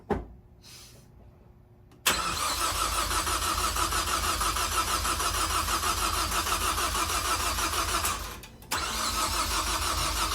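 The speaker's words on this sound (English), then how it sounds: "Let's go ahead and give her a crank, see what happens." A Ford Focus ST engine cranks for its first start: a quiet lead-in, then loud, steady, continuous cranking for about six seconds, a brief dip, and more cranking close up.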